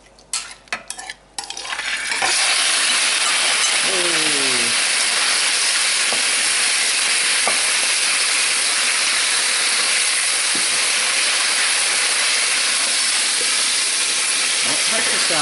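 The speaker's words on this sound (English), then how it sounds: "The oil is hot. I'm going to put the pork in." Pork hits hot sesame oil with a loud, steady frying sizzle and hiss that persists for over ten seconds, with a few utensil clinks and stirring scrapes in the pan, after some brief handling noises at the start.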